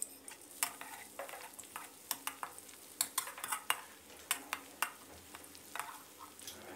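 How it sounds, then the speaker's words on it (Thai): Coarsely pounded chili and garlic stir-fried in hot oil for a Thai eggplant and minced pork dish, a steady sizzle broken by frequent sharp scrapes and knocks of a spatula against the pan. "ใส่พริกกระเทียมโขกหยาบตามชอบได้เลยนะครับผัดให้แตกกลิ่นหอมเลยนะครับ"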